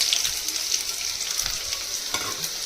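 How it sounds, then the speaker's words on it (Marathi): Steady hissing sizzle of onion frying in hot oil in a wok, with occasional scraping stirs; no voices. "त्याच्यामध्ये तेल टाकलंय, त्याच्यामध्ये आपण हा कांदा टाकणार आहोत"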